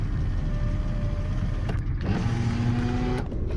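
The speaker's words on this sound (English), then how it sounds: "windows, electric windows." Electric windows on a Rover 827SLi whirring up and down inside the car, a steady motor hum with brief pauses between runs, close and moderately loud.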